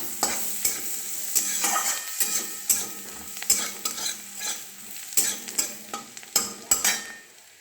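Chopped garlic frying in a pan as chicken soup is started, heard as a steady sizzle with repeated stirring scrapes and clinks of a utensil against the pan, close and fairly loud, with no talking.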